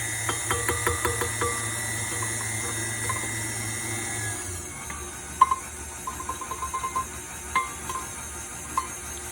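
A kitchen mixer whirs on its stir setting through lactose-free brownie batter with cocoa powder. The steady, humming motor drone cuts off midway, followed by scattered light clinks and taps.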